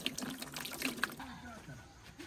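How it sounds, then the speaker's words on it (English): Water trickles and splashes steadily onto the soil and leaves of a young pawpaw plant nearby, a soft continuous pour with faint background voices. "we are going to water the plant"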